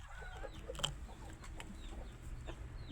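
Chickens clucking nearby in a farmyard, soft scattered clucks with one sharper call, over low background noise and no talk.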